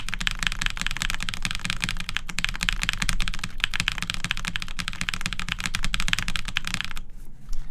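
Rapid arrow-key typing on a Zeus TKL prototype mechanical keyboard with a top-mount plate, a dense, steady stream of close, crisp clacks running nearly without pause until a brief quiet near the end.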